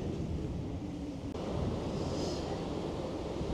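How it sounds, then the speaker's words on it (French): Light wind blowing on Antarctic pack ice near a ship, a steady rough rumble of air against the microphone with a faint hiss, no voices. "Il y a un peu de vent, pas beaucoup, mais il fait 0 degré."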